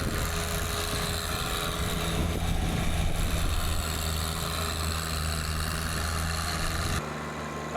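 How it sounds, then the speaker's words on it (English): A John Deere 3046R compact tractor idles steadily nearby while filling a large hole, a continuous low droning engine hum with a constant tone that drops away abruptly near the end. "we're letting the 3046R help us fill this big hole"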